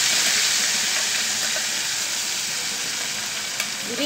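Chopped ginger frying in hot oil in a pan gives a loud, continuous sizzle that is close and even from start to finish, with one small click near the end.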